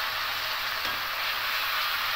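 Tomato paste fries in a pan of hot oil with a dense, steady sizzle, stirred continuously, loud and close with no pauses.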